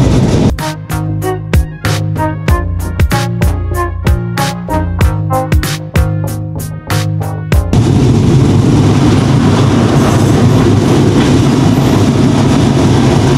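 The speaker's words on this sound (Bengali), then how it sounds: "একটা লোকাল ট্রেন ক্রস করছি, এবং এটা ক্রসিংয়ের জন্য এখানে দাঁড়িয়েছিল, আমরা এটা ক্রস করে ফেললাম।" The Chitra Express passenger train runs past a waiting local train in Bangladesh, near Ullapara. A loud, rapid series of rhythmic rattles and clacks sounds for several seconds as the trains pass. It then gives way to a steady, broad roar of the running train.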